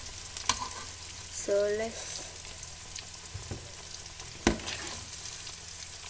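Goat meat pieces frying in hot oil give a continuous crackling sizzle, with occasional sharp pops and utensil knocks and a short squeak midway, while a voice speaks briefly.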